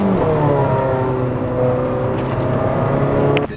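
An Abarth car engine revs hard, a strong, steady mechanical roar with rising harmonic tones held close and loud for several seconds, no voices over it.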